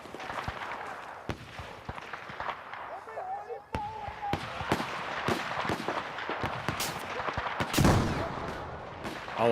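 Gunfire in the video game Battlefield 4: dense, rapid cracks and bursts of shots, with a few heavier blasts, run through the whole stretch at close range.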